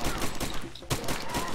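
Rifle fire in Far Cry 2, a dense burst of loud, overlapping game gunshots that briefly dips before resuming, heard over a constant busy background.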